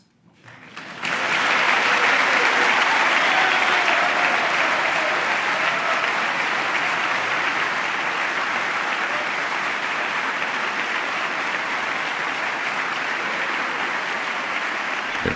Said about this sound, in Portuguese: Membros do Congresso de pé agora aplaudem mais uma vez.